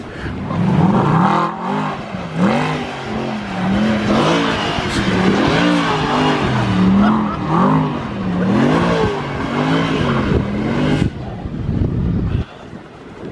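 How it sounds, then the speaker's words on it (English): A Mercedes SLS sports car does donuts outdoors in cold weather, its engine revving in rising and falling waves while tires squeal and wind buffets the microphone, loud and close for most of the stretch. "we might have SLS donuts in a second"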